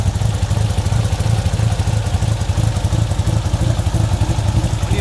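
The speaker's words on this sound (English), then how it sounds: "You hear that big old cam, man. This is a super sexy sound." A 1986 Porsche 930 911 Turbo with a big cam idles loudly and steadily with a lumpy, uneven pulse, a rough cammed rumble that holds constant throughout.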